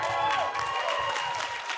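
Team Liquid fans applaud and cheer in a crowd at an esports match, with steady, moderately distant clapping and a voice talking over it.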